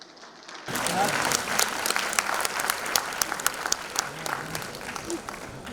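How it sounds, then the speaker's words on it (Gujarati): Audience applause at a Bharatanatyam arangetram, a steady wash of many hands clapping that starts abruptly after a quiet moment and carries on at full strength, with a few individual claps standing out near the front. "તમે તાળી પાડી"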